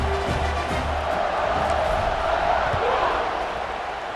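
A stadium crowd in the football video game EA Sports College Football 26 keeps up a continuous loud roar and murmur throughout, steady and broad, like a full stadium heard from within the stands.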